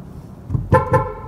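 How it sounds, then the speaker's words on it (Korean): A car horn sounds at a pedestrian on a narrow street: two short, loud honks in quick succession, following a faint thump and low traffic rumble. "자네 지금 나한테 빵빵 된 건가?"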